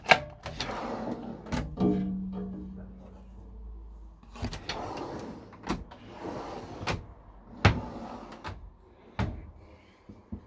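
Drawers in a Dethleffs Trend I7057 DBL motorhome slide open and shut with a few sharp knocks and thuds, interspersed with short rolling slides and handling noise nearby.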